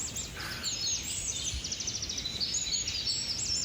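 Birds sing and chirp throughout the Sintra woods in Portugal, a steady layer of high, overlapping calls carrying on without pause and heard at a moderate distance, with no talk.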